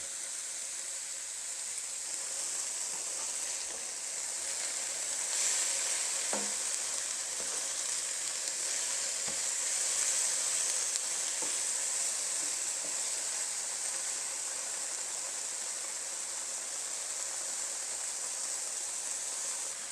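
Pork pieces sear and brown in a hot pan, a steady close sizzle and crackle of frying fat running throughout with a few sharper pops and spits, no voices.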